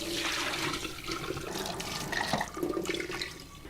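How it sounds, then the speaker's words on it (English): Cold water pours steadily over rinsed quinoa and drains through a sieve, a continuous loud rushing and splashing for several seconds. "Add some cold water to it, stir it around a little bit, and then drain it through a sieve."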